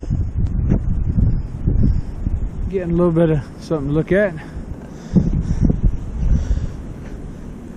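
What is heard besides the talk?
strong wind on the Appalachian Trail, Georgia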